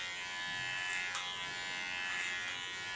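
An electric hair clipper buzzes steadily and close up while shaving the side of a head of natural curly hair, a constant whine with brief scratchy bursts as the blade moves through the hair.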